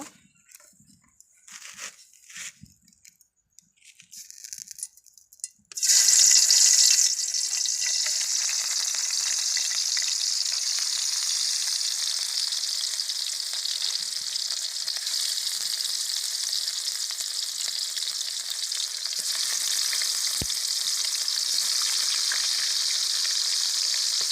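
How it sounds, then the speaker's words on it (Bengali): Rohu fish pieces go into hot oil in a wok: a few quiet kitchen clatters, then a sudden loud hiss of frying that settles into a sustained, even sizzle. "কড়াইয়ে তেল গরম করে নিয়েছি এখন আমি এখানে মাছগুলো ছেড়ে দিব"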